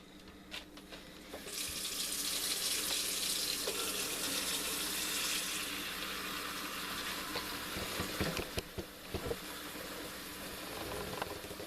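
Water runs steadily from a tap, splashing and filling a pot with a gallon of water for brine, loud and close, with a few knocks and clatters near the end.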